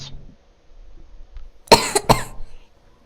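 Two sharp coughs in quick succession from a nearby person break a near-silent room, the second slightly weaker than the first, followed by faint low rustling.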